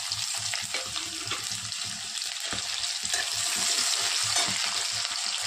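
Onion frying with cumin in a pan, a steady loud sizzle with rapid stirring scrapes and clinks, close up and continuous with no voices.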